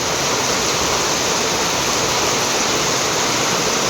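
Heavy rain pours down and splashes in through the front of a house in a steady, loud, close hiss, with no pauses and no voices.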